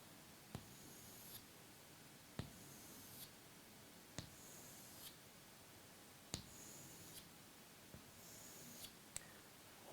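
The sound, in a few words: drawing a vertical line on paper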